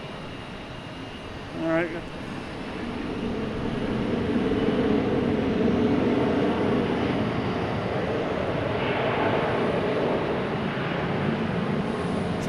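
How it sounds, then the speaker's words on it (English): JetBlue jet at Boston Logan Airport producing a steady, broad roar that swells after a couple of seconds and holds at a distance, with a brief spoken remark near the start and a boat in the harbor. "Got the racket coming from that JetBlue over there"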